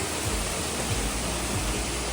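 Datun waterfall in Yangmingshan, a narrow but powerful fall, gives a continuous broad rushing roar, steady and fairly close, with no other sounds standing out.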